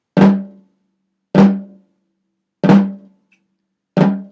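Drum flams played with two sticks on a band practice drum, four separate sharp strikes spaced about a second and a quarter apart, each a quick double-stroke attack that decays fast into silence, close and clear.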